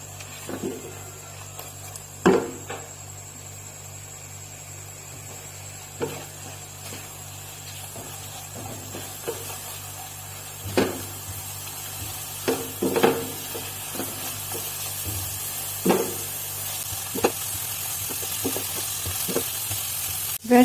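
Egg frying and sizzling in a pan along with chicken and onion; a steady close sizzle with repeated clinks and scrapes of a stirring utensil against the pan, no talk.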